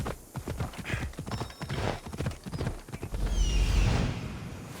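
Horse hooves clip-clopping at a steady galloping rhythm in Assassin's Creed Odyssey, close and fairly loud, with a brief neigh-like call and rushing movement noise toward the end.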